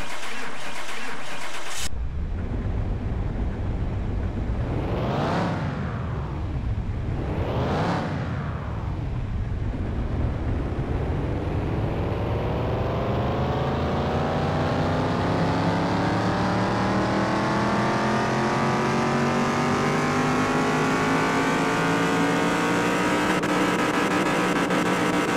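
A car on a dyno in the game Car Mechanic Simulator 2021 revs loudly through two short bursts, then makes a long, steadily climbing engine pull with rising harmonic whine, alone and without speech.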